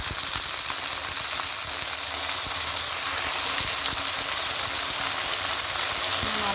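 Cut potatoes frying with onions in a hot pan for a simple potato fry, a steady dense sizzle throughout with faint stirring scrapes and occasional soft knocks.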